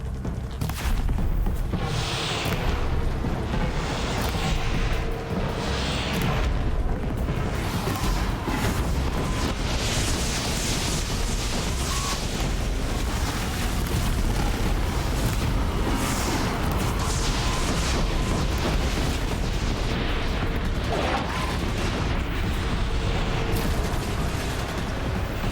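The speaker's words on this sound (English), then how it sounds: "Okay, I need to take out that cannon." Booming cannon fire and explosions from a battle in Horizon Zero Dawn, a dense, loud, continuous barrage of blasts and mechanical rumble with no talk.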